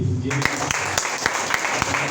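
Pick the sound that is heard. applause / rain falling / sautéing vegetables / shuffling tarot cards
applause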